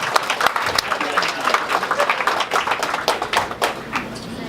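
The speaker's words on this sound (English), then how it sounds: "Everybody give a round of applause for Daniel" An audience at an open-mic comedy show in Melbourne, Florida claps for a volunteer, a few seconds of close, uneven clapping with sharp individual hand slaps.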